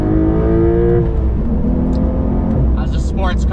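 A 2023 Porsche 911 Carrera T engine in normal mode accelerates nearby. Its rising tone climbs steadily, and someone talks over it.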